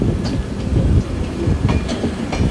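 A Shatabdi express train running on rails, heard from inside as a loud continuous rumble with rhythmic clickety-clack of wheels over rail joints.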